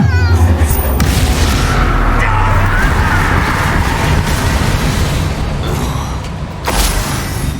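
Confringo blasting spell in Hogwarts Legacy, loud explosive burst near the start and another crack later, layered over heavy continuous rumbling combat noise.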